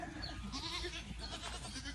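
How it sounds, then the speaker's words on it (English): A goat on a hobby farm bleats faintly amid rustling and low farmyard noise, a short wavering call heard from a moderate distance. "A few goats."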